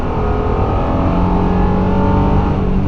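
A 2019 Honda Pilot SUV accelerates hard, its engine holding a loud, steady, rising drone throughout, heard from close by inside the cabin.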